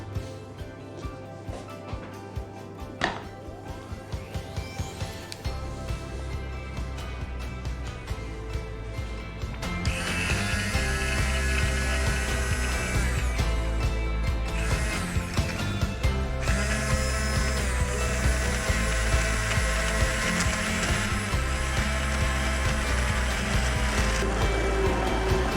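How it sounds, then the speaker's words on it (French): A blender purées the sauce for a monkfish tail dish, its steady whirring motor running loud and continuous for most of the stretch after a quieter start with a brief pause partway through. "je vais mixer la sauce pour la rendre plus onctueuse."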